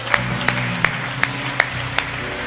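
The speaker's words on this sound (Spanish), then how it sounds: "Denle un fuerte aplauso al Señor." A church congregation claps in steady unison, sharp evenly spaced beats roughly three per second, with a low sustained musical tone running underneath.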